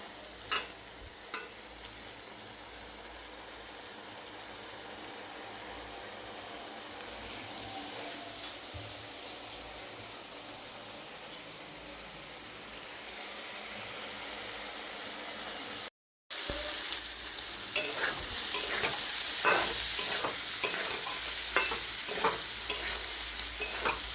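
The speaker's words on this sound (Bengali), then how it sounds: "একটু ভালো করে কষে নেবো ভালো করে কষে নেব" Ghugni, a dried pea curry, being stir-fried in a pan, with a steady sizzle and soft scraping and clinking of a spatula, a brief silent gap, then louder, brighter frying and stirring toward the end.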